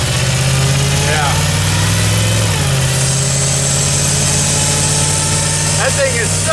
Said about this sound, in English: That thing is sucking air. That's that noise. It's that throttle body.